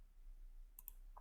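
Two or three light mouse clicks close together near the end, faint and isolated against quiet background noise.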